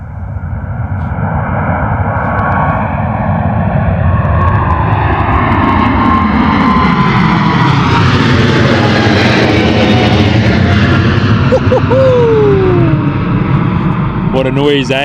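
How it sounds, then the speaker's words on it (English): A China Eastern Boeing 777 departs directly overhead at London Gatwick Airport, its engines producing a loud, sustained roar with a rising and falling whine across the whole pass, while a voice speaks briefly underneath. "Beautiful China Eastern 777 directly overhead departure here at London Gatwick Airport"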